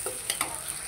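Onions and spices fry in a pan, giving a steady close sizzle with a few quick stirring scrapes over a brief moment.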